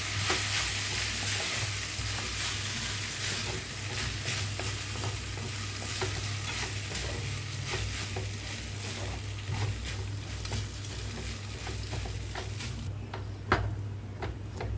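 Vermicelli is stirred into a lemon rice seasoning in a pan for semiya pulihora, with a continuous close frying sizzle, steady scraping of a spoon, and a low hum running underneath.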